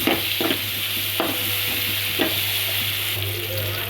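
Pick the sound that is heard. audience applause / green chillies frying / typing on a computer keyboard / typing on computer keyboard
green chillies frying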